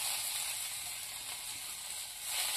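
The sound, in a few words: ginger and garlic frying in hot oil in a kadai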